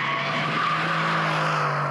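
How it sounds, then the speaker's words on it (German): Mercedes-AMG C 63 S drifting through a corner, its tires skidding in a loud, sustained squeal over the engine's drone, close and continuous throughout. "Man muss das Auto schon wirklich dann auch in den Drift zwingen und richtig reinschmeißen in die Kurve."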